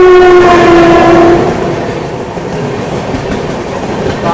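The Kanpur Shatabdi express passes on the crossing track at Tilak Bridge, opening with a loud, near horn blast that fades into the steady rumble and clatter of the passing coaches.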